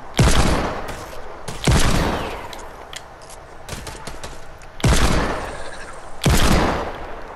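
A weapon fires in Fortnite, four loud close gunshot bursts spaced a second or more apart, each a sharp crack with a decaying tail, separated by quieter gaps.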